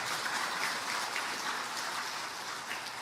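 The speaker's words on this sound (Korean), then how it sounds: "우리 하나님의 영광의 박수 돌립니다." A church congregation claps together in steady, sustained applause, a dense patter of many hands that fills the room evenly.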